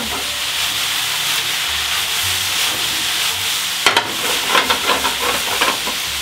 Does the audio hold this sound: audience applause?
no